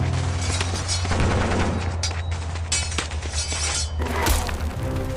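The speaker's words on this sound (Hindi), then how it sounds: "फिर यवन सेना अपनी बंदूकों से धड़ धड़ गोलियां चलाई," Dense rapid gunfire crackles in overlapping volleys with sharp cracks and shattering bursts over a low rumbling background, loud and continuous.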